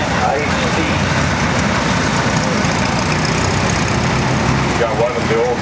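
A restored 1949 IHC tractor engine idles at a tractor ride event, a steady loud rumbling drone close by with a constant low chug and some surrounding noise throughout.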